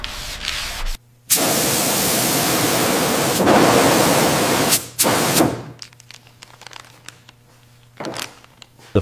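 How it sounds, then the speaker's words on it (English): Sanding the primed body of a rusty Buick Skylark before paint: long, loud abrasive rubbing strokes, two sustained passes, then brief short scrapes among quieter gaps. "Sanding again."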